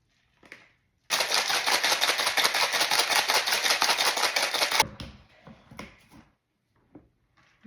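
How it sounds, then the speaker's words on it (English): A cocktail shaker mixing a Mai Tai rattles rapidly and evenly for about four seconds, ice clattering inside, followed by a few clinks as it is set down. "Shake it good."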